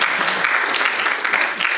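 Audience at an evening university lecture breaks into dense, loud applause, steady clapping throughout with no pauses, filling the room.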